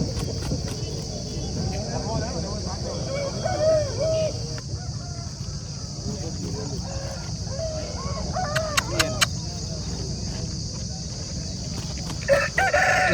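Aseel roosters at a busy Saturday poultry market in Mydukuru, with clucks and crowing-like calls mixed into a steady crowd murmur as people talk nearby.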